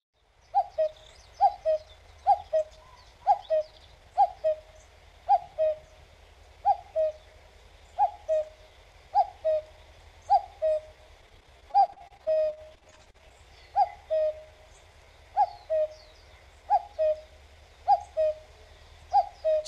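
A common cuckoo repeats its two-note call steadily, roughly once a second, moderately distant and clear in a quiet setting with no voices.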